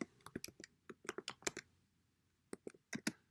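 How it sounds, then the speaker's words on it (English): Irregular bursts of key clicks from typing on a computer keyboard, close and moderately quiet, with a short pause before a few final keystrokes; no talking. "this is something worth typing in"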